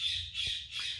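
A bird squawks loudly and harshly near an indoor recording spot in three rapid, shrill bursts that run almost continuously, with a faint low thump partway through.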